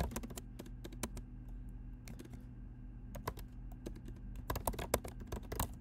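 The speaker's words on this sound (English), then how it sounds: "or we can just type it." Computer keyboard typing, a quiet close run of irregular rapid clicks over a low steady hum, thinning out midway and then picking up again in denser bursts, with no talk.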